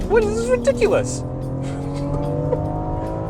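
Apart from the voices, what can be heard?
BMW X4M Competition driven on a race track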